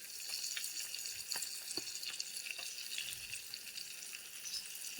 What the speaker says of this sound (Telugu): తిప్పుకున్నప్పుడు వెనకాల కూడా మంచిగా ఫ్రై అవుతుంది